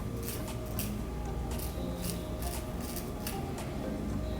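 A razor cuts through wig hair in a series of rapid, crisp rasping strokes, close and fairly quiet over steady background noise.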